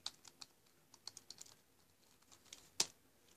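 Fingers tap on a Dell computer keyboard, a quiet, irregular run of close, crisp key clicks with one sharper strike near the end.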